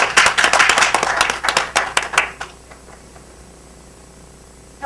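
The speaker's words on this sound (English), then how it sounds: "So give her a round of applause." Audience applause at a panel discussion, a brisk burst of many hands clapping that lasts about two seconds, then trails off into a few scattered claps and quiet room noise.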